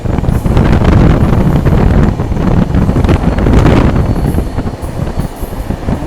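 Steady loud rumble of an AP Express passenger train running, heard from inside a carriage on the Nagpur to Delhi route near Bhopal, with constant wheel and track roar, wind buffeting and faint high squeals.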